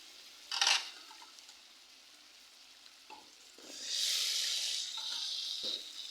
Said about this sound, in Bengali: তো তার জন্য এই যে মশলা কষাই নিলাম